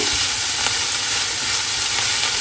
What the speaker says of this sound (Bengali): এখন আমি কপিগুলো মানে পাতাকপিটাকে ওই তেলের ভিতরে হলুদ আর লবণ দিয়ে ভেজে নিব